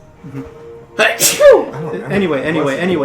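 A single sharp sneeze bursts out close and loud during a tabletop role-playing session, framed by casual conversation before and after.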